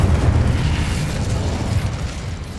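Incendio fire spell cast in Hogwarts Legacy, a loud rushing roar of flame with rumbling bursts that slowly tapers over a couple of seconds.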